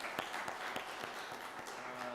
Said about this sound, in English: Can we clap for our presenters?